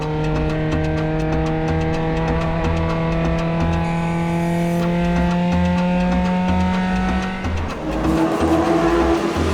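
Suzuki Swift race car from Rennplatz Racing competing in a 4-hour endurance race, its engine droning loud and steady with harmonic whine throughout, a brief dip near the end before another car's note rises.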